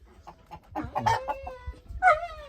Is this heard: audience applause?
no